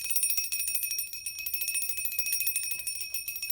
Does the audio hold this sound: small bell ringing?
yes